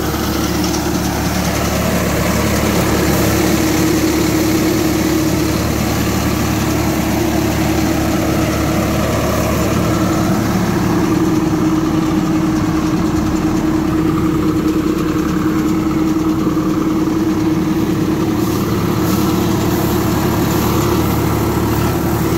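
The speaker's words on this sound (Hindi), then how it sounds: "ये ट्रैक्टर अब पहले गायर के हाई में चल रहा है" A Swaraj 855 tractor engine runs loud and steady at high revs in first gear high range during wheat harvesting with a reaper, a continuous close-up drone with no pauses.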